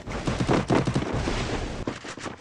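Rapid bursts of video-game gunfire crackle densely through the whole stretch in an online shooter match, loud and close, with brief pauses between volleys and no talk over them.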